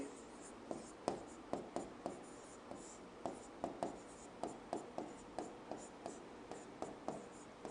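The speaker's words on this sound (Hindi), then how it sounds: "तो यहां पर हम लिखेंगे" Pen or chalk writing during a Hindi-language Class 8 science lecture, a run of close, sharp tapping strokes in an irregular rhythm, mostly alone with little talk.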